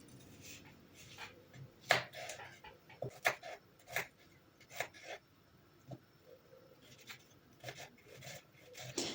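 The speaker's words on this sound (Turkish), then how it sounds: "Bu arada bir adet orta boy yemeklik soğanımızı doğrayalım." A medium cooking onion chopped with a knife on a board in a home kitchen, sounding as a run of irregular crisp taps and scrapes, close and fairly quiet, with no talk.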